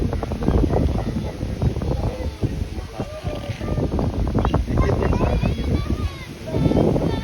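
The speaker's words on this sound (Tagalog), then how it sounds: "ang lakas ng hangin" Strong wind roars and buffets the microphone in loud, continuous gusts, with a voice speaking intermittently beneath it.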